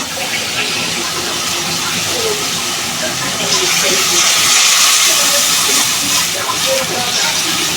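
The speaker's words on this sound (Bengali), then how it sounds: "শাকটি ভাজা হয়ে গেছে এখন গরম জল ঢেলে দিব" Hot water poured into a pan of fried greens with turmeric sets off a loud, continuous steam hiss that swells midway and stays steady, with some splashing beneath.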